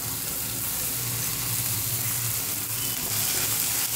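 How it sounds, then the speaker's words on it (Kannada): Mutton liver with coriander powder, garam masala and a splash of water fries in a pan over a medium-low flame, giving a steady, dense, continuous sizzle with no talking. "ಸ್ವಲ್ಪ ಹೊತ್ತು ಮೀಡಿಯಮ್ ಲೋ ಫ್ಲೇಮಲ್ಲಿ ಇದನ್ನು ಫ್ರೈ ಮಾಡಿಕೊಡಿ"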